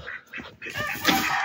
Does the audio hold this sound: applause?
no